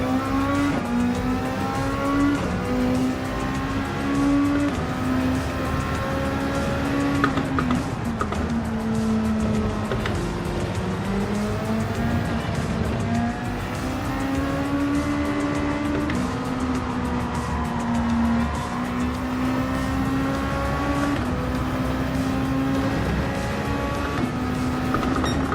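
Toyota GR Cup race car engine in a racing video game, running practice laps with a loud, continuous drone that rises and falls through gear changes and throttle lifts, with no voices over it.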